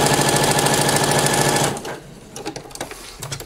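Sewing machine stitching a ruffle onto a skirt, running loud and steady for under two seconds before stopping, followed by quieter handling clicks and brief fabric rustles.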